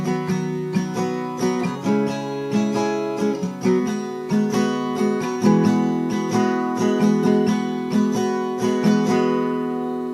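Bright acoustic guitar chords with a capo, the verse of a song, strummed in a steady rhythm, ringing close and full throughout with no voices.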